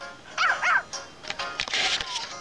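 In the Nintendogs + Cats video game, a puppy gives two quick, close yips, followed by softer whimpering yelps within a couple of seconds.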